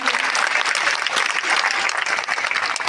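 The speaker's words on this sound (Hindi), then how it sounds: "एक बार इनके लिए जोरदार तालियां बजाएं" A dense, steady wall of audience applause, loud and continuous throughout, with many hands clapping together and no pause.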